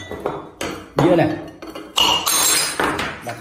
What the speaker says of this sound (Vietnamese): Bát này, đầu tiên mình sẽ đập bát này.